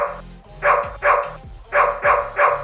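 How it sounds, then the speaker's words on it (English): Dog barks play as a sound effect from Lemokey keyboard software, five evenly spaced, loud, clipped woofs in quick rhythm. "Change it to dog barking."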